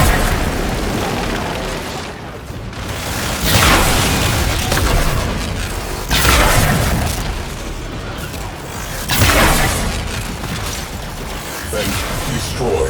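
Vents explode aboard a Warframe Railjack ship, several heavy booming blasts rolling over a loud, roaring sci-fi background, with a voice speaking partway through.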